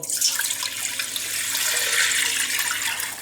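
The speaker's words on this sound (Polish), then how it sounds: "Od razu tutaj wlewam bulion" Broth poured into a cooking pot while making a tomato-heavy fish soup, a steady splashing liquid stream running continuously and fairly loud, close by, with no talk.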